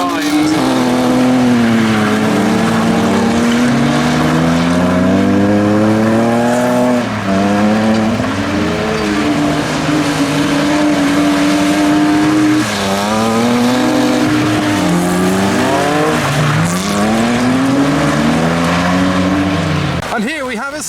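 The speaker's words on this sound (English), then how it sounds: "And here we have a standard E46 Estate understeering into infinity." A stock BMW E46 3 Series estate understeers through a drift, its engine revving hard with rising and falling pitch and tires squealing, loud and continuous with someone talking over it throughout.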